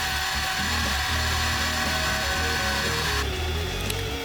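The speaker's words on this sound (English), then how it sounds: "I sanded down the edges a bit." Power sander working the edges of a pallet-wood shop stool, a steady loud motor hum with a gritty abrasive hiss that shifts in tone near the end, continuous and close, no talking.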